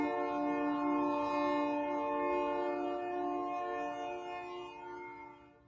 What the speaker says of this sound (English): And the train interrupts me.